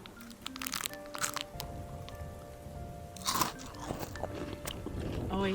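Someone bites into a Kinder Bueno Crunch chocolate wafer bar with hazelnut cream filling, producing crisp crunches and cracking close to the mic, then steady chewing, with faint background sounds.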